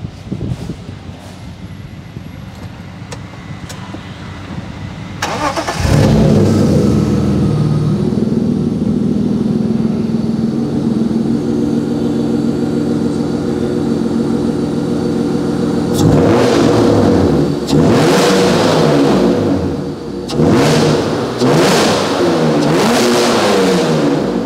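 BMW E30 with a swapped M52B30 straight-six cranks and fires into a steady idle, then is revved repeatedly in sharp rising and falling bursts, loud and close, with some wind noise.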